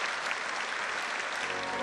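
Brief burst of dense audience applause in a full concert hall after a choir performance at a spiritual music festival, steady and moderately distant.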